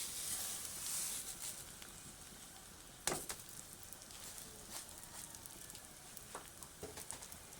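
Uncooked polao rice, about one and a half cups, tipped into a hot pan of oil fragrant with ginger, giving a sharp crackle at the moment it lands, then a steady close sizzle with scattered pops and no talking.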